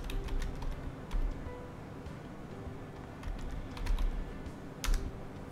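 Steady, busy typing on a computer keyboard, many close crisp keystrokes in irregular runs with a few louder taps, against a low room rumble and no speech.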